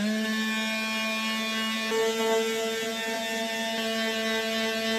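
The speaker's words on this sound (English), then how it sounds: "I've got this little detail sander from Milwaukee." A small Milwaukee detail sander with a soft pad hums steadily against wooden shelf corbels, a constant close-up motor drone with a faint buzzing edge.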